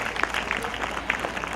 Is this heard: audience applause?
yes